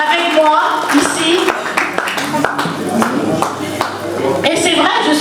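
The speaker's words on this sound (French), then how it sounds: "Je vous prie d'applaudir très fort." Audience clapping at an installation ceremony for an association's new European board in Paris, scattered hand claps heard beneath a loud voice and background music throughout.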